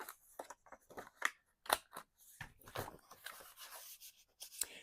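Corners being rounded on a paper journal card for an altered composition notebook, a run of quiet, close snipping and crunching clicks in an uneven rhythm, with soft paper handling between cuts.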